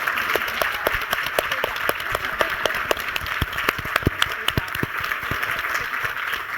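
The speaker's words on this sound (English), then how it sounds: "let's give them a round of applause." Steady applause from an audience, many hands clapping at once in a dense, continuous patter that holds level throughout.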